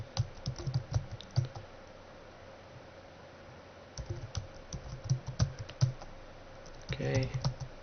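A computer keyboard clatters in quick bursts of key presses, pausing briefly in the middle before more clusters of clicks, close and fairly clear over faint background hiss.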